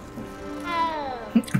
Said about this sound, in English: Look at the kitty cat.